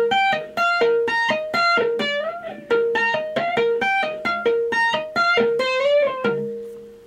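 A little electric guitar riff played slowly and cleanly, a steady sequence of distinct picked notes with slurred bends, each ringing briefly before the next, alone with no talking.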